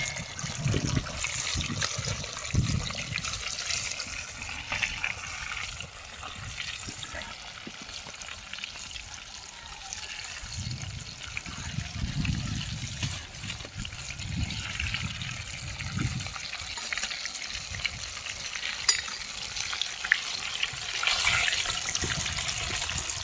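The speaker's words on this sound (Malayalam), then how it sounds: "നമ്മുടെ ചിക്കൻ ഉണ്ടല്ലോ നമുക്ക് അടിപൊളിയായിട്ട് ഫ്രൈ ചെയ്ത് വരുന്നുണ്ട്" Battered chicken deep-frying in hot oil, KFC style, with a steady broadband sizzle and crackle that swells and fades, plus occasional stirring or clinking and faint background voices.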